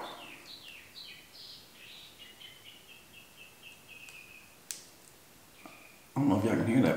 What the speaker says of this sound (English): I don't know if y'all can hear that. That bird's going crazy.